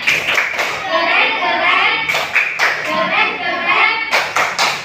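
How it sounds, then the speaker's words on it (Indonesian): Children in a classroom clap together in a quick patterned rhythm, joined by group voices, with short pauses between bursts of clapping. "coba beri tepuk keren dulu. Tepuk keren."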